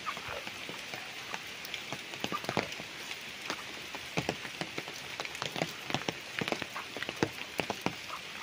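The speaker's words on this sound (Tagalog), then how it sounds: "medyo maulan lang po kasi ngayon" Rain falls on a farm lot in Lumban, Laguna, a steady patter with many sharp drips and drops striking nearby surfaces, moderately loud and continuous, with no voices.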